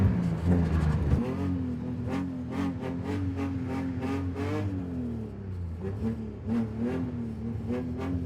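A 2003 BMW 330 with a 3-liter engine drifting on a frozen lake, its engine revving high and rising and falling continuously as the car slides, loud and close with no talk.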